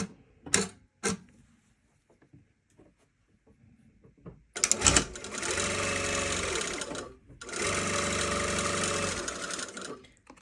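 A sewing machine stitches a seam in two loud, steady motor-driven runs, each a few seconds long with a brief pause between, preceded by a few sharp clicks and handling noises in an otherwise quiet room.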